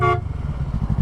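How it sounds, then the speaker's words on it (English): Loud horn blast from a truck fitted with a train horn, heard up close from a motorcycle on California Highway 101, a harmonic-rich burst at the start followed by the low rumble of traffic and engine noise. "Train horn on his truck."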